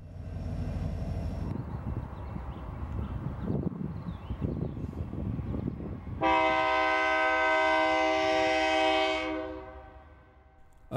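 A Union Pacific and BNSF freight train with distributed power units rumbles past at close range, steady rolling roar, then a loud sustained multi-tone horn blast for several seconds before fading.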